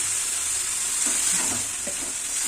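Lentil dumplings (bori) being stirred with spices in a hot pan, a constant loud sizzle with soft scraping and shuffling strokes of the spoon close up.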